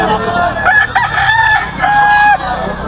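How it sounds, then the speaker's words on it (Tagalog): A rooster crows loudly and close by at a poultry market, one drawn-out cock-a-doodle-doo with a few short clucks around it. "Gaganda ng manok ni Boss Ray, oh."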